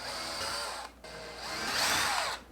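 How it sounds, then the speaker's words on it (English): A power drill bores a hole in a wall for an anchor, a close high whine in two short bursts with a brief pause between. "Drill the hole for the anchor."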